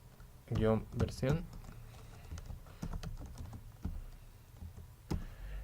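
A computer keyboard clicks in short, scattered keystrokes as a console command is entered, close and quiet, following a brief stretch of talking at the start.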